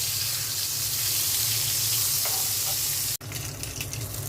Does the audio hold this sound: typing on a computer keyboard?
no